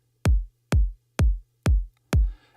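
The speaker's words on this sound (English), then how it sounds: "You can try play the kick just by itself." Electronic kick drum played alone, five deep punchy thumps at a steady tempo with a faint low hum beneath and a short noisy tail at the end.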